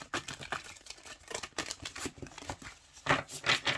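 Tarot cards riffle and slap together in quick, uneven bursts, close and fairly faint, with a few sharper flicks near the end.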